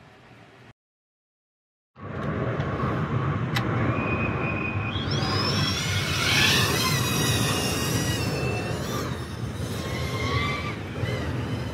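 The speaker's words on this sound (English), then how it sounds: "Fly a little closer so you guys can hear the props." A BetaFPV X-Knight 3-inch FPV toothpick drone flies past with a steady, loud propeller roar. Its motor whine rises sharply in pitch midway through and then holds, with no talking.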